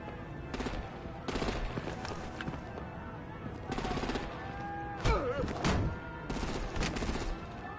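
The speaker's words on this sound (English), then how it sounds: "Break out the artillery and disable their vehicles!" Rapid artillery and gunfire in a Batman video game comes in repeated bursts of dense shots, alternating with brief lulls, under scattered game voices.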